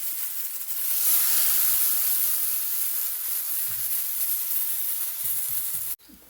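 Oil sizzles hard under dhapate flatbread on a hot pan, a loud bright hiss that holds steady for about six seconds and then cuts off abruptly.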